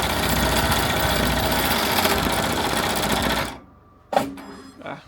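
An embroidery machine stitching out a design runs with a loud, rapid mechanical chatter for about three and a half seconds, then stops abruptly, followed by a couple of short clunks and a brief whir.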